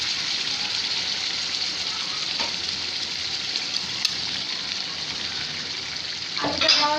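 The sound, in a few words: potatoes added to sizzling chicken curry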